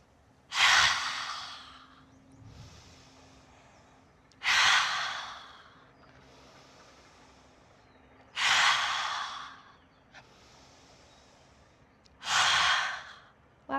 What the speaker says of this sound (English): So we'll take an inhale and exhale.